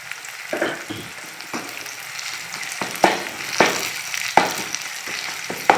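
Ginger sizzles and fries in a pan for chicken curry, a steady close hiss broken by sharp stirring scrapes and spatters, with no talking.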